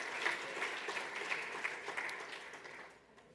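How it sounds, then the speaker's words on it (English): Audience applause at the Sedona Forum 2026, a steady round of clapping from a sizable crowd heard at a distance, tapering off at the end. "let's just give the McCains a quick round of applause"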